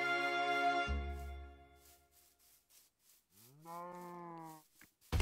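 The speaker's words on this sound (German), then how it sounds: "Frau Kuh." A cow in the game Minecraft gives two clear, drawn-out moos separated by a quiet gap with faint footstep-like scuffs, close and isolated, with no talk.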